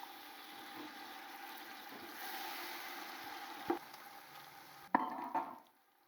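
Browning onions sizzle and fry softly in a pan as garlic ginger paste is added for matar pulao, a steady low hiss broken by a few stirring clatters near the end.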